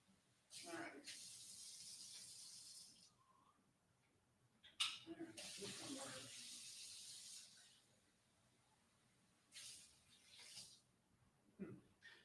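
Hot water is poured into a thermos in a few separate bursts of hissing, splashing flow, fairly close and moderately loud, with short pauses between pours.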